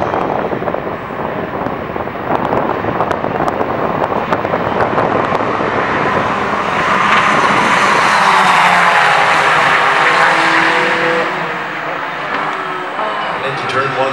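Ferrari race cars at Daytona, including 333SPs and GT cars, run in formation through the tri-oval. Engine roar swells loudly as they pass close by, then fades, with a commentator talking over it.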